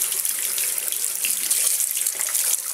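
Tap water runs steadily while shampoo is rinsed off a Sigma Glove, a continuous close hiss of splashing water into a sink with no voices.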